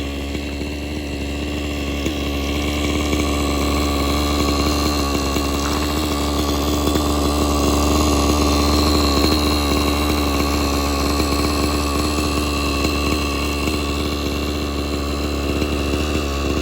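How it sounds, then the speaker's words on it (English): A small high-revving nitro engine on an SAB Goblin RAW 580 RC helicopter idles steadily and loudly throughout, a continuous buzzing drone with no voices. "moved it out to the sunlight while it's idling so we can get a good look at it"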